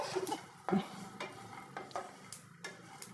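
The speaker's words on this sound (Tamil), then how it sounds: "தேங்காய் வந்து அந்த பச்சை வாசனை போகணுன்னு சொல்லி தான் வறுத்துட்டு இருக்கேன்" Grated coconut, coriander and sesame dry-roast on a low flame in a pan: a faint, crackly sizzle is punctuated by several distinct spatula scrapes and clinks against the metal, with no voices.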